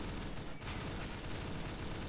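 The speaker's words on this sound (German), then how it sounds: "du musst auch auf den schießen" Gunfire in the shooter video game Counter-Strike: Global Offensive, a dense continuous stream of rapid shots, fairly faint and unbroken throughout.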